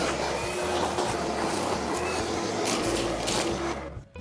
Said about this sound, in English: That was the best that vacuum's ever sounded.